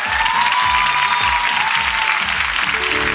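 Loud, dense applause fills the room for a musician on a music show, steady clapping from a crowd with faint tonal traces of instruments lingering beneath, sustained for about three seconds without speech.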